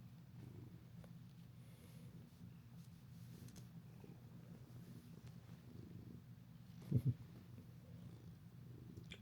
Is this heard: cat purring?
yes